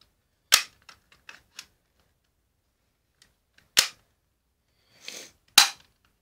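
A BB gun fires in sharp, loud cracks, one near the start and two more later, with faint clicks of loading and handling between shots and no talking.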